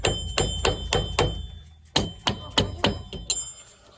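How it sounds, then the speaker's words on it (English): Repeated heavy, dull thuds of a dead blow hammer strike in an uneven rhythm, close and loud, with a short pause midway, during a Brembo brake upgrade on a 2005 Chevrolet Cobalt SS. "This is a dead blow hammer."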